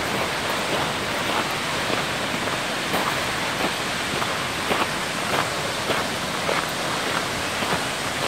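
Tokoa Falls rushes in a steady, broadband roar of falling water, heard close and constant without pause and with no voices over it.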